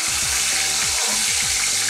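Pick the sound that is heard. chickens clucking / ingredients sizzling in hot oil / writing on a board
ingredients sizzling in hot oil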